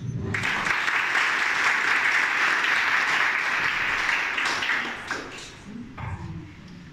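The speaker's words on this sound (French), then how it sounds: "Donc, merci de les encourager, merci de les applaudir." Audience applause at a French-Arabic oratory contest, a dense, steady wash of clapping that fills the room for about five seconds, then thins out as a voice starts speaking near the end.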